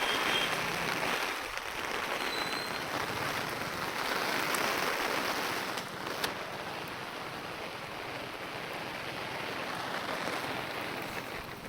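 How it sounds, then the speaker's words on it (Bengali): Steady rain falls on a riverbank, a soft continuous hiss of drops with faint wind, moderately distant and unbroken. "সারাটা দিন বৃষ্টি হচ্ছে, 2 দিন ধরে বৃষ্টি"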